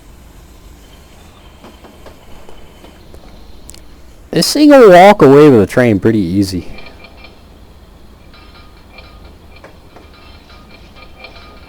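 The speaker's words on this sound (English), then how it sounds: "that's supposed to be the sound of the clickety-clack, because, you know, we got so many wheels in one spot" Train Simulator Classic's PRR Baldwin Centipede locomotive wheels make a steady, faint clickety-clack that runs the whole time. Someone talks briefly over it midway.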